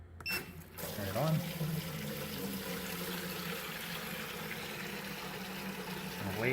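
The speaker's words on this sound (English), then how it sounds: "Filling up the bucket." Water from a home brewing system pouring into a bucket on a Munich Helles brew day, a steady, close rushing stream that starts after a short click and keeps going evenly.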